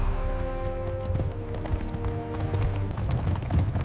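Horses pulling an ancient Egyptian war chariot clatter along in a steady run, hooves clip-clopping loudly and continuously over a rumbling low bed, with no talking.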